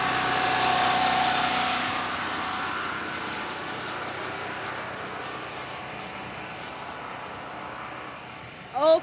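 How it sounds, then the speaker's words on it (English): A generator powering a vintage mobile boutique trailer drones steadily throughout with a constant mechanical hum, fairly loud and close, fading slightly toward the end, where a short sound cuts in. "as you can probably see and hear, my generator"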